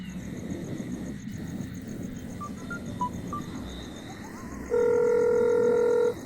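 A telephone being dialed in a Hindi-dubbed Nepali film: a few short keypad beeps, then a steady ringing tone for over a second, set against a constant outdoor hum with croaking sounds.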